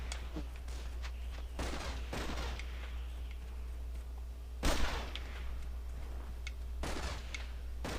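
Gunfire in the Xbox game Armed & Dangerous. Irregular bursts of shots crack out over a steady low hum, most fairly sharp, with one louder blast in the middle of the clip.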